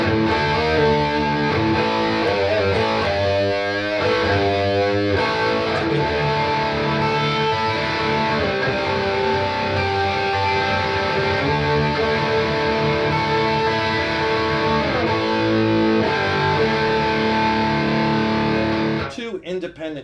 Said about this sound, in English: The lead channel, just incredibly full, lush, harmonic, rich distortion, high gain sounds that are just awesome.